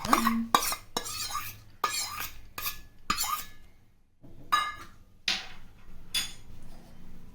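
Dry dal lentils poured into a pressure cooker give a series of sharp rattling, clinking bursts against metal, separated by brief pauses, close and fairly loud.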